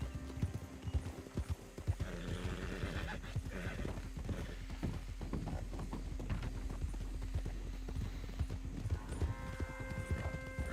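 Horse hooves clip-clop steadily in Red Dead Redemption 2 as the horse is ridden at a walking pace. The rhythmic, close hoof beats carry on throughout, with a brief whinny and a faint background hum.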